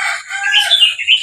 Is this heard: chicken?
yes